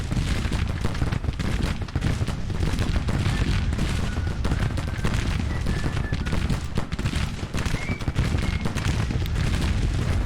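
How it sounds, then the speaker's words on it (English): Artillery and massed rifle fire from a Civil War battle in the video game Grand Tactician: The Civil War. Dense, continuous volleys crackle with heavy booms for about ten seconds without a pause, alone and with no talk. "we've got artillery firing on these guys. We've got a whole division firing on them."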